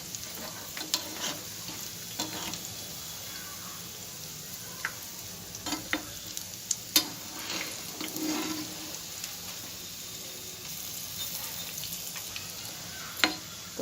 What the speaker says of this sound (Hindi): ब्राउन होने तक हम इन्हें फ्राई करेंगे